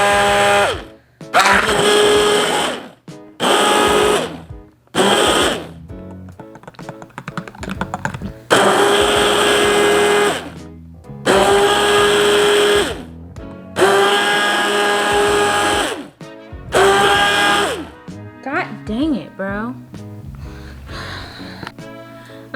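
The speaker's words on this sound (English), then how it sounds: "we're going to use an immersion blender and blend." An immersion blender whirs loudly in repeated bursts of several seconds each while blending hot homemade body lotion, separated by short pauses with clinks and handling noises in between.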